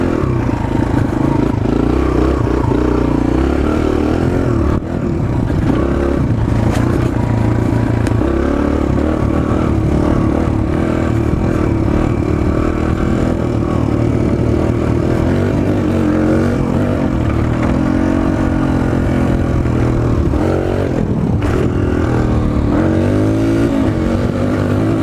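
A Suzuki DR-Z 125L motorcycle ridden in fourth gear, its small engine droning loudly and steadily near the rider, with buffeting wind and rattles over a long stretch and a few brief dips in pitch.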